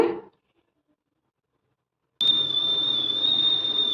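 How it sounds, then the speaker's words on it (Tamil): Steady high-pitched whistle from an idli cooker on a stove, starting abruptly after a brief silence and holding loud and unbroken for the rest of the clip over a hissing steam rush. "நாம் வந்து இட்லி குக்கரில் வந்துட்டு வேக வச்சுருந்தோம் இல்லையா இப்போ வந்து எனக்கு விசில் வந்துடுச்சுங்க"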